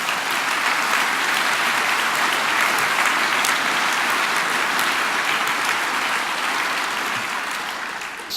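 Sustained audience applause at an SNP political event in October 2013, a dense, even wash of clapping that holds loud for about eight seconds before tapering slightly at the end.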